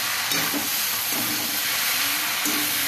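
Onions fry in a pan for a poppy-seed dish, making a loud, continuous crackling hiss that fills the whole stretch, close up and with no voices.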